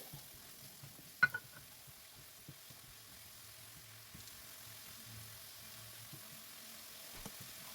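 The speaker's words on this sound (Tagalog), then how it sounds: "Isunod namang igisa ang onion hanggang maging translucent." Minced garlic and onion sautéing in oil for a baked taco lasagna, a faint, steady low sizzle with a couple of sharp utensil clinks early on and occasional soft stirring taps, no voices.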